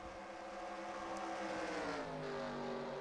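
Race car engines roar in the NASCAR Racing 2003 video game at Dover, a steady, dense drone of several engines with pitch sliding as cars overtake, continuous and loud throughout.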